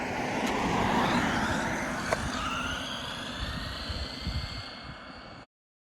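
A Traxxas Bandit RC car fitted with a budget Turnigy motor on a 3S LiPo runs at full throttle in a speed test, its high electric whine rising in pitch as it passes and then fades away.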